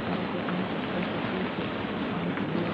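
Steady rain falls outdoors as a continuous, dense hiss that stays even in loudness throughout, with no talking over it.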